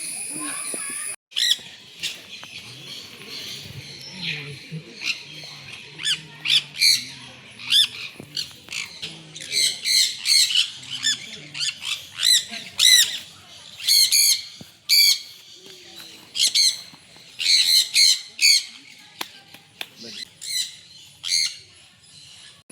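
Ducks call at a nature park by the river, with loud bursts of quacking and squawks in uneven clusters that grow busier over time. Faint voices murmur in the background.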